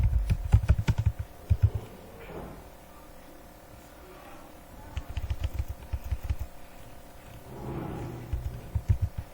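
Computer keyboard keys tapped while writing a C++ pattern program, with uneven bursts of quick clicks, pauses between runs and a low rumble underneath.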